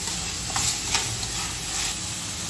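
Shredded cabbage being mixed in a hot pan for veg tacos, a dense sizzle under a few quick scraping strokes of the spatula, close and steady, with no talk.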